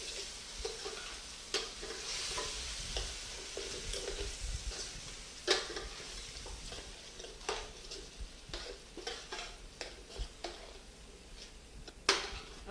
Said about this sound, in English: I'm going to let this simmer down, kind of thicken up a little bit